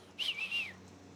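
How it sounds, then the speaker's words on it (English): A short, bright human whistle calling a Border Collie, rising then sliding slightly, heard close against quiet background. "We've worked on my whistle sound and he knows what that is."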